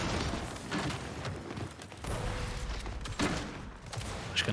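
Rapid, dense shotgun and weapon fire in the video game Gears 5 during a competitive esports match, loud and continuous with overlapping blasts and impacts throughout.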